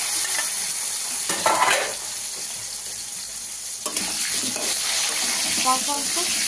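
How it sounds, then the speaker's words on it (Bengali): Potatoes frying in a pan with salt and turmeric for a pumpkin-stem rohu fish curry, a steady sizzle with stirring scrapes and a brief burst of louder crackle, a voice speaking over it. "এবার দিয়ে দিলাম আমি আলুগুলো একটু কষে দিয়ে নুন হলুদ"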